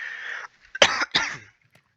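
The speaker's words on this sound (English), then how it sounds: "don't know what this cough is" A person coughs twice in quick succession, close to the microphone, following a short hoarse vocal sound.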